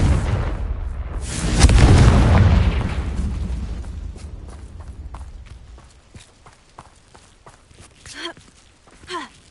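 A Confringo fire spell explodes in Hogwarts Legacy, a loud, close boom with a rumbling blast that slowly fades, followed by softer footsteps and small game sound effects.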